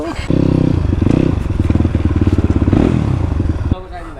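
A 300cc big bore motorcycle idling close by with a rapid, loud, even thumping beat that suddenly cuts off near the end.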